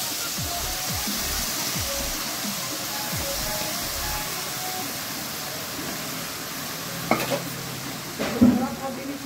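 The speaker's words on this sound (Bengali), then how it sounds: "এই সময় দিয়ে দিচ্ছি কুচিয়ে রাখা আলু" Chopped potato and eggplant frying in hot mustard oil with tempered spices give a loud, steady close sizzle, with a few utensil scrapes and clinks near the end.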